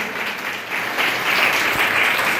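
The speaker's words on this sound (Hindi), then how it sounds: "एक बार जोरदार तालियां बच्चों टीचर के लिए" Loud, sustained applause from a crowd at a traditional cultural workshop, honouring children and their teachers, a steady dense clatter of many hands with no gaps.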